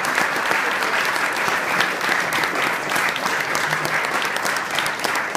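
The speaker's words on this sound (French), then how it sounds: "Vous pouvez également applaudir cette association" Loud, sustained audience applause from a crowd gathered for the inauguration of a fencing hall, dense clapping running unbroken throughout.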